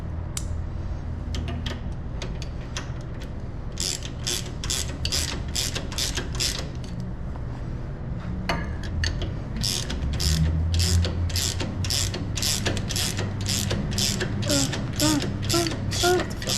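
A ratchet clicks in quick repeated bursts while tightening bolts during installation of a PSC Big Bore hydro assist steering unit on a Jeep JKU Rubicon, close and clear over a low mechanical background hum.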